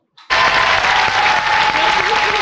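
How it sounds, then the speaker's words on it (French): A studio audience breaks into loud, sustained applause that starts abruptly and stays dense and even, with many hands clapping close by. "Et je demande d'applaudir Dieudonné"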